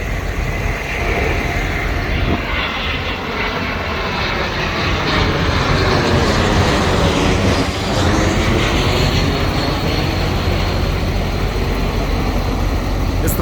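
An airplane flies overhead outdoors in Cudahy, Wisconsin, a loud, sustained roar that swells and fades as it passes, with a faint voice now and then.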